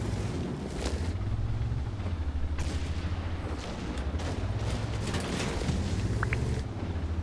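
Tank cannon fire and battle noise in World of Tanks, with a British Centurion 7/1 on the Mines map, shots and distant booms sounding over a steady low engine rumble.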